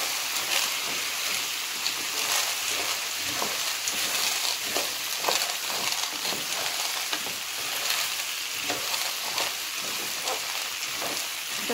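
Small pearl-shaped pasta is stirred in a pot, giving a continuous fizzing sizzle with soft scraping and clicking of the utensil, steady and close, with no talking.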